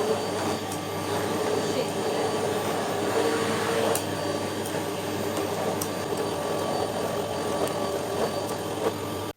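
A Grundig VCC 7870 bagless HEPA-filter vacuum cleaner runs steadily with a constant whine and airy rush, with a few faint clicks and bumps as it moves.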